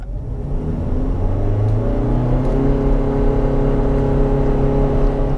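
A 2020 Mitsubishi Outlander plug-in hybrid SUV's engine revs up under acceleration, a rising droning hum with steady road rumble, loud and continuous from inside the cabin.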